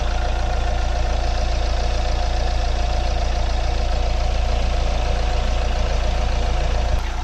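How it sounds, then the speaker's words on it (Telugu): A Hyundai i20 with a 1400cc diesel engine idles after decarbonisation, giving a steady, close, unbroken rumble with a fine knocking texture throughout. "ఒకసారి ఇంజన్ నాయిస్ అయితే వినండి."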